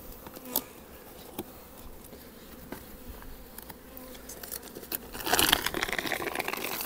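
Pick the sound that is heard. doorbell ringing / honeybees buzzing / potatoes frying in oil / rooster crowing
honeybees buzzing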